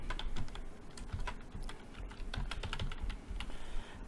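Rapid typing on a computer keyboard during graphic design work, dense irregular key clicks and taps in quick bursts, close and steady throughout with no speech.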